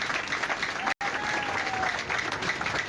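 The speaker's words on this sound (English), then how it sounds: "Please clap for yourselves." A crowd at a political rally applauds in a steady, dense patter of clapping that carries through the whole stretch, broken by one sudden brief dropout.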